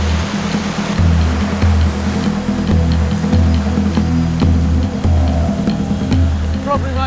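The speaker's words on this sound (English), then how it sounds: "But I've come up against an 80-foot waterfall, and my only way out is down." An 80-foot waterfall in Panama rushes continuously, a loud, steady roar of falling water in the wild with pulsing low rumble throughout and no gaps.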